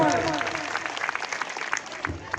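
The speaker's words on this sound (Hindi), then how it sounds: "इन लोगों के लिए जोरदार तालियां बजाओ" Applause from a crowd at an outdoor community gathering honouring local leaders, a dense steady patter of many hands over a brief stretch, fading slightly toward the end.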